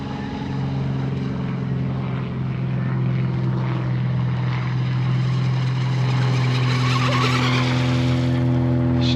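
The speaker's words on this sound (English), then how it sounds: "She's running nice when you feather that throttle." A J&R Marine H17 radio-controlled hydroplane runs across open water, its engine a sustained high-pitched whine with steady harmonic drone and splashy spray, swelling slightly as it nears, with no voices.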